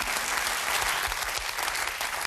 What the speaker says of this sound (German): Immer wieder ermuntert dieser fantastische Beifall